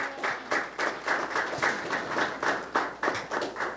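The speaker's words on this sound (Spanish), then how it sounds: "Le damos un aplauso a ellos por su presencia." Audience applause at a church launch event for a Bible and hymnal for the Jubilee 2025, a small crowd clapping at a steady, fairly even pace, moderately loud and slightly distant, with no voices over it.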